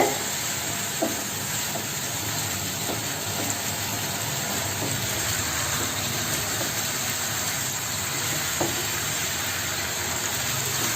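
Fish curry with spices, potatoes and yardlong beans sautés in a pan with a steady, loud sizzle throughout, broken by occasional faint taps of stirring.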